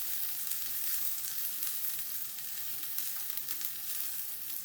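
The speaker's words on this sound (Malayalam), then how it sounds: "അപ്പോൾ ഇതേ പകുതിയോളം മൂത്ത് കഴിഞ്ഞ ഉള്ളി." Shallots and curry leaves frying in oil for a Kerala-style chicken curry, a steady, close hiss of sizzling with faint crackles throughout, no voices.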